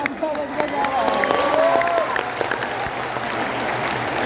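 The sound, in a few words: crowd applause at a rally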